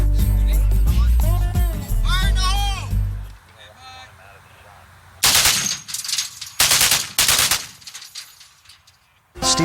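A .50 caliber machine gun fires on a movie set in several loud, separate bursts of broadband blasts in the second half, after a stretch of loud music and talk.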